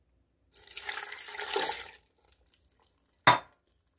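A short splash of water poured into a blender jar holding poblano chiles and garlic cloves, a faint two-second trickle followed by a single sharp clunk.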